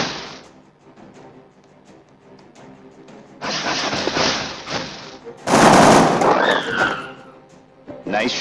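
Bursts of gunfire from the XCOM: Enemy Within game on Android, first a low clatter, then a loud burst of automatic fire followed by a louder, sustained volley with sweeping whines, all fairly close with no voices.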